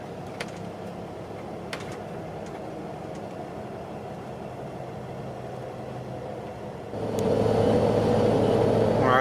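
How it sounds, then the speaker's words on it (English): Road traffic on a Tennessee highway rumbles past as a low, steady drone heard from inside a moving vehicle, swelling louder near the end as another vehicle closes in. "And here is some traffic."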